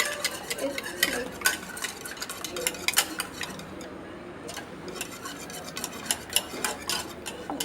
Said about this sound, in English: If you have the mixture, mix it very properly.